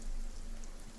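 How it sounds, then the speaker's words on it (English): Steady rain falling across the open fractured plains in RuneScape: Dragonwilds, a continuous soft patter with a low rumble beneath, no voices. "Is it raining?"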